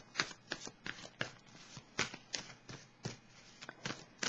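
Tarot cards shuffled by hand in a quiet room, a run of crisp, riffling bursts that repeat roughly every half second for several seconds, close and clear with no voices.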